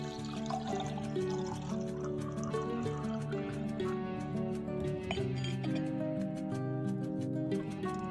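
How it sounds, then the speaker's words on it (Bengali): Water trickles and clinks into a small ritual pot during a home Saraswati puja, a faint, continuous pouring and dripping set against a steady tonal hum in the background. "এবার এই ঘটে আমি জল পরিপূর্ণ করে দেব।"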